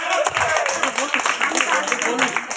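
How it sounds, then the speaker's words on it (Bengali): An audience claps at a quiz and drawing competition. The applause is a dense, steady patter of many hands lasting a couple of seconds, with a voice talking over it. "জোরে হাত তালি হয়ে যাক"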